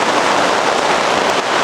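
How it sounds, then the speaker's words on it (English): Strong wind drives rain against a cattle panel greenhouse, making a dense, continuous rushing patter that stays loud and close throughout, with no voices. "pretty strong winds and rain. The greenhouse is holding up pretty well."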